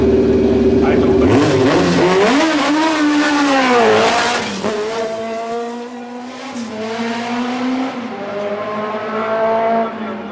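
A historic March 752 rally car with a BMW engine leaves the start of a rally stage. The engine revs loudly and climbs through the gears as the tyres squeal briefly, then the car pulls away while a commentator talks over it.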